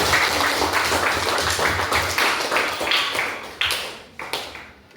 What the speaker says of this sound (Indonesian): berikan tepuk tangan untuk mereka